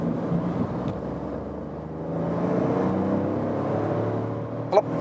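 A Seat Ibiza TGI with a three-cylinder CNG engine pulls away in second gear and shifts into third, its engine hum building steadily from inside the cabin, with a brief click near the end.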